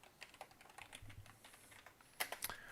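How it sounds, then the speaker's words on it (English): Fingers tap on a computer keyboard in quick, uneven bursts of faint clicking, close by and soft, with a slightly louder cluster of keystrokes near the end. "Dang, can't type today."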